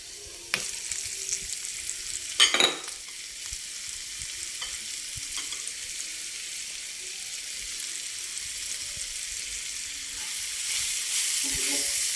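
Finely chopped onions, added to oil where curry leaves have already fried, hiss steadily in a pan. A few sharp clatters come near the start, and the sizzle swells slightly toward the end. The sound is close and heard alone.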